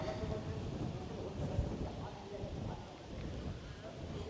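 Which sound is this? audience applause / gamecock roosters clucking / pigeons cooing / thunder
thunder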